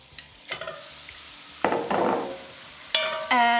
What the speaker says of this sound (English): Garlic in. Now we add the beef.